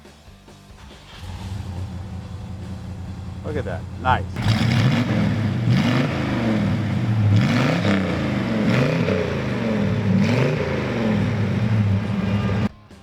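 A big V8 engine in a 1967 Chevelle SS396 cranks and fires up, then revs loudly several times with deep throaty surges, while someone speaks briefly over it.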